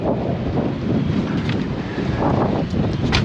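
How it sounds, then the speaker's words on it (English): Strong wind buffets the microphone outdoors in a steady, roaring rush with gusty swells, loud and close throughout. "it is super windy out here"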